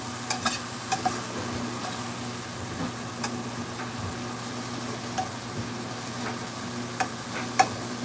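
Minced garlic sizzling in olive oil in a pan, a continuous low crackle with a few light ticks and knocks, close and moderately loud, no voices.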